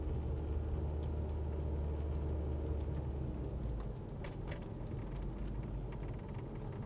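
A Mk4 Jetta with a Tiptronic automatic gearbox drives along in second gear, heard from inside the cabin as a steady low engine and road rumble that eases slightly partway through, with faint rattles on top.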